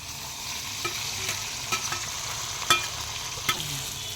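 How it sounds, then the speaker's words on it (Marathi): Red-leaved chandan batwa greens stirred into hot oil with browned garlic, giving a continuous sizzle and crackle with repeated sharp spoon scrapes and taps against the pan. "लसूण लाल झालाय. आता भाजी ओतून घेते."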